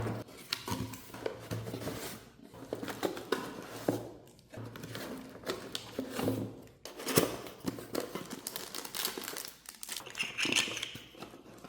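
An ULTIMEA Aura A30 surround sound system being unboxed: cardboard and plastic crinkle, rustle and tear in uneven bursts, with occasional light knocks, close by and without talking.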